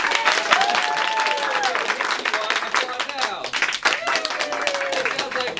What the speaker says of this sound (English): so if you think Max won that, applaud now